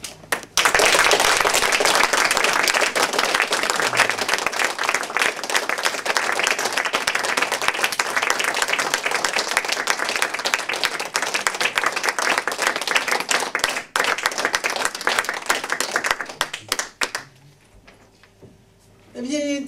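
A theatre audience applauds in tribute to Pierre, steady dense clapping sustained for about seventeen seconds before thinning out, with a voice speaking near the end.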